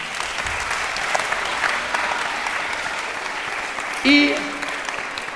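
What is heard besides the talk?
audience applause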